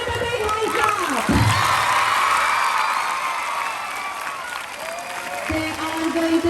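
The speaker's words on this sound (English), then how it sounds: "Give them a big high clap." School audience at a Children's Day event clapping for their teachers, a dense, loud wash of applause with shouts and cheers mixed in, steady throughout with voices rising over it.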